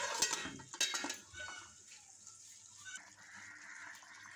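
A lid is set onto a cooking pot with a couple of sharp metallic clinks near the start, followed by softer rattles and faint kitchen bustle.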